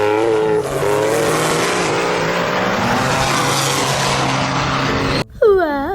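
Green toy jeep with a loud continuous racing-engine revving sound lasting about five seconds, close and dense, followed by a brief gap and a short electronic warble at the end.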